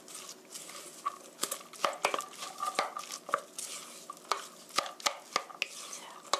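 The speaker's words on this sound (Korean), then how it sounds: "고루 섞어주세요." Green chili pancake batter with green onions and garlic being stirred in a bowl, soft wet scraping and clicking utensil taps in an irregular rhythm, close and fairly quiet.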